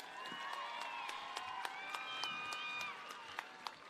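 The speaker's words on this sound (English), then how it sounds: "Let's give her another round of applause." Graduation crowd at Moreno Valley High School applauding steadily, with scattered claps, whoops and cheering voices rising over the clapping before it thins toward the end.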